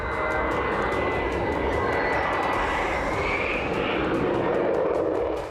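Israeli fighter jets roar over Beirut in a loud, continuous, broadband rumble that holds steady for several seconds, with no voices over it.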